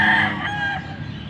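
A rooster crows loudly and close by at a chicken market in Bocaue, a long drawn-out call, with other fowl clucking faintly in the background.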